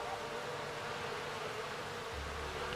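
Bees buzz in the fantasy farming video game Fae Farm, a soft continuous insect drone held at low level throughout with no talking.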